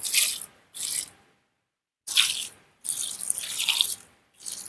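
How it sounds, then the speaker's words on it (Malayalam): Water is poured from a container onto the potting soil of an adenium plant in several short splashing bursts separated by brief pauses, close and fairly soft. "നമുക്ക് വെള്ളം ഒഴിച്ചു കൊടുക്കാം ഒരുപാട് വെള്ളമൊന്നും വേണ്ട കേട്ടോ"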